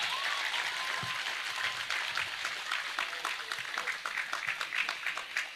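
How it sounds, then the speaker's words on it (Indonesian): An audience applauds for the santri, Islamic boarding-school students, with steady, fairly faint clapping that fills the whole stretch and is scattered and uneven rather than rhythmic. "Tepuk tangan untuk santri."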